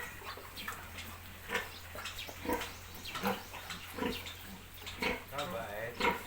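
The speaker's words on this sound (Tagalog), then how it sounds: "Naririnig mo si bulugan na." A boar at a Filipino pig pen gives repeated low grunts in short bursts, fairly close, mixed with a person talking over them throughout.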